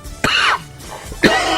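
Two sharp, close coughs from one person, loud and abrupt with a short pause between them, with a throaty, rough quality and no talk over them.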